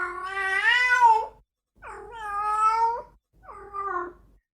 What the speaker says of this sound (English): one can hear female cats going through this some nights outside your window